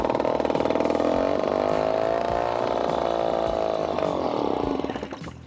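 A cheap old $100 outboard motor runs steadily and loudly with a buzzing, harmonic drone that holds even before tapering off at the end.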